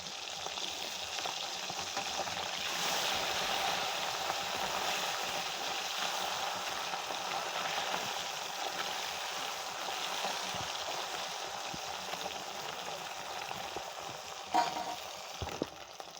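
Fish sizzles steadily in hot oil in a pan at home, a continuous broadband frying hiss lasting throughout, with a couple of brief louder clatters near the end as the pieces are turned over.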